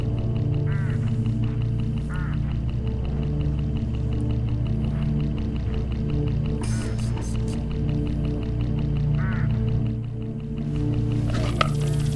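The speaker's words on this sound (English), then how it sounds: "crows all along this road." Crows along a road in the mystery game Hitchhiker, with scattered harsh caws over a steady low hum throughout.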